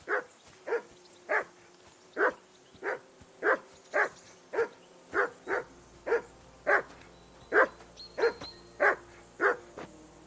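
A dog in Kingdom Come: Deliverance II barks repeatedly and loudly at a steady, regular pace, about fifteen sharp barks close by with nothing else heard.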